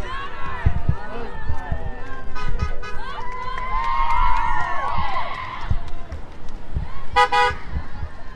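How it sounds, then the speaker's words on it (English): A crowd marches at a Black Lives Matter protest in Sierra Vista, with voices, scattered cheering, car horns tooting and passing traffic mixed together. People talk nearby throughout. "Huge crowd"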